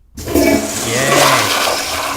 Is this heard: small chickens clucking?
no